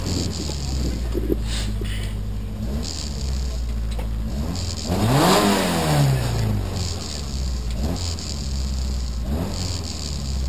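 A rally car's engine revs at the start of a special stage at the 2013 Rallye Draguignan Verdon, idling with a low rumble before climbing through a loud, rising rev in the middle and settling back, heard close from inside.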